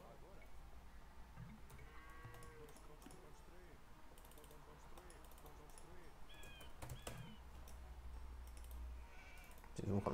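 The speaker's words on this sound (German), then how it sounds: "Wo kommt das Schaf immer her?" Sheep bleat a couple of times in a 4v4 Arena match of a strategy video game with Celts and Koreans, the cries thin and brief against busy game clicks and ambience, with a player talking over them.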